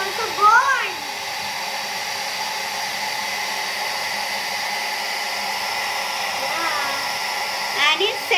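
A hair dryer blows a steady, loud, close hiss that runs without a break, with a voice chiming in briefly near the start and end.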